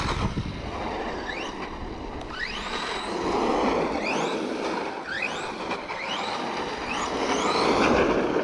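A Redcat Shredder 1/6 scale RC truck drives on ground wet from rain, its electric motor whining in repeated rising bursts as it accelerates, over steady broadband rumble and wind noise, with no talking.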